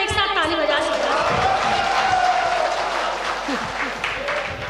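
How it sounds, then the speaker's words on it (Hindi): An audience at an All India Mushaira in Malegaon claps together in a dense, steady burst of applause that holds for several seconds, with a voice running faintly underneath. "अगर अच्छा लग रहा है तो एक साथ ताली बजा सकते हैं।"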